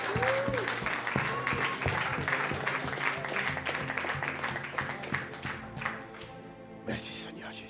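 A congregation applauds during a Sunday church service, a dense sustained clapping that fills the room, with voices calling out over it and a fade near the end.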